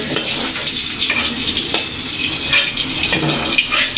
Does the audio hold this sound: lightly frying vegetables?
yes